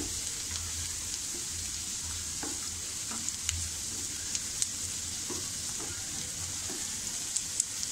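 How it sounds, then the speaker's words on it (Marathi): Cashews sauté in a pan for homemade paneer masala, giving a soft, continuous sizzle with light scrapes and taps of a spoon stirring them, close and steady throughout. "आता यातच आपण हे काजू टाकूया. काजूसुद्धा आपण असे थोडे परतून घेऊया 2 मिनटं."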